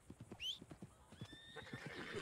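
In Red Dead Redemption 2, a horse's hooves clip-clop in a quick rhythm, broken by a sharp, high whinny near the start, clear and close over a quiet background.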